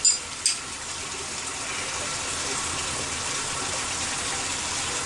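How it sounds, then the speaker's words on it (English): Hot water running from a kitchen tap in a steady, rushing gush, opening with a couple of sharp knocks and then flowing evenly and close by, with no talk. "And I am just going to use hot water."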